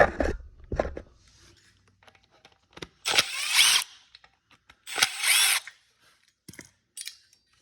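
Power drill with a T20 bit backs out two screws from the ignition coil on a Ryobi weed eater, two short loud whirring bursts up close with small clicks and handling between them.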